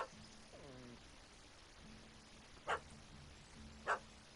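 A dog barking at a cat up a tree in The Witcher 3 video game, with two sharp, distinct barks over quiet ambient game sound and a brief cat-like cry early on.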